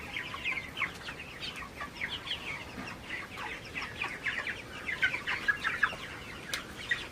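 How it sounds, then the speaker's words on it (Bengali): Broiler chickens in a poultry shed during cold, rainy weather cluck and chatter softly and continuously, many birds at moderate distance with no one speaking. "মাশাআল্লাহ মোটামুটি ঠিক আছে মুরগিগুলো আমার"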